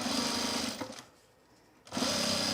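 An industrial sewing machine runs along the long edge of an apron, a loud close motor hum with rapid needle chatter that drops away for about a second, then surges back at full speed.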